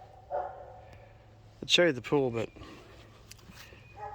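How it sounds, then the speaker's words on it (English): Dogs bark faintly in the distance while someone talks close by, the barking thin and half buried beneath his voice. "So as you can hear the dogs over there barking."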